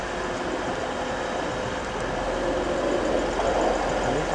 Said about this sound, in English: Train that has just come in is 185109 to Manchester Airport.